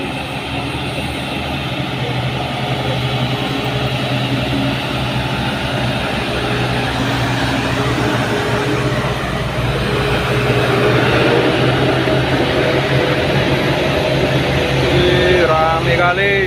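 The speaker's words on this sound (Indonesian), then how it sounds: "Di belakang sana ada truk Hino ya teman-teman." A heavy Hino truck engine rumbles steadily nearby as it struggles to climb a hill, its low drone swelling slightly toward the end amid busy street noise and faint background voices.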